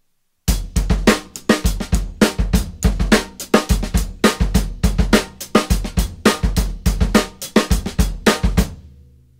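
A drum kit lays down a repeating 7/8 groove with a clipped, lopsided cycle, sharp snare and kick accents under quick cymbal strokes, loud and close, played alone.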